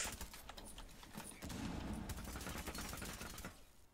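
Rapid, quiet automatic gunfire in the video game Rainbow Six, a dense continuous burst of shots with mechanical clicks, heard faintly in the game mix.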